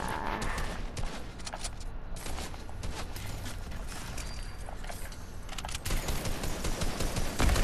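Hunting rifle gunfire in a solos match of a shooter video game, with repeated sharp game shots and mechanical clatter spread across the clip over dense, busy game noise.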